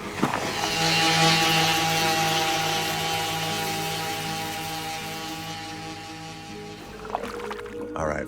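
A power sander works on a grab bar piece for a 2023 Ford Bronco Heritage Limited, a loud steady whine that slowly fades before stopping near the end, followed by brief clatter.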